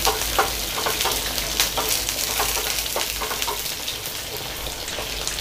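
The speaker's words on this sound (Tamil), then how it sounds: "பூண்டு நல்லா ஃப்ரை ஆனதுக்கப்புறம் பச்சை மிளகாய்" Garlic and green chillies fry in a pan during a Tamil home-style chilli mushroom recipe, giving a steady crackling sizzle with scattered sharp pops and stirring clicks, close and fairly loud, with no talking.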